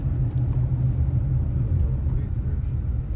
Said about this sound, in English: we're going to be pulling into the town, and we're going to drive around through the town